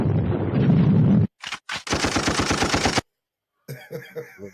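Gunshot sound effects in a hip-hop track fire in a dense rapid burst like machine-gun fire, then cut out to silence before a quieter stretch follows.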